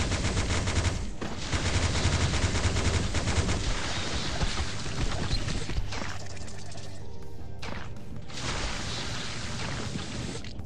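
Detonator weapon firing at a boss in a video game, a loud, dense, continuous barrage of explosive blasts and crashes that fills the whole stretch with brief gaps near the end.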